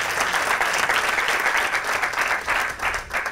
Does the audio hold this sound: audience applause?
yes